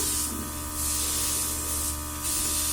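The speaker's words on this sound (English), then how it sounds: "So I'm just going to lightly spray some bronze" A Luminess Air airbrush sprays bronzer makeup onto a face in steady hissing bursts, with two loud sustained sprays separated by a short pause over a faint motor hum, close and loud with no speech.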